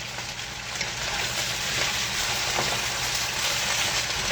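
Potatoes and Tennessee mountain ramps fry in a pan with a steady, close, continuous sizzle that holds at an even level throughout, with no talking.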